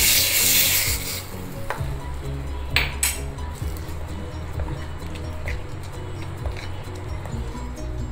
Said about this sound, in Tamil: கொஞ்சம் கருவேப்பிலை இந்த பெருங்காயத்து மேலே சூடாக விட்டுருங்க